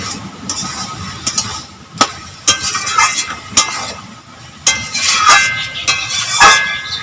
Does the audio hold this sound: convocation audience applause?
no